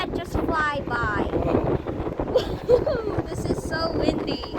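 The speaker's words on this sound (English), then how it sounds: "There is a lot of wind this time" Strong wind gusts through the Everglades and buffets the microphone in uneven rumbling bursts, while a person talks over it.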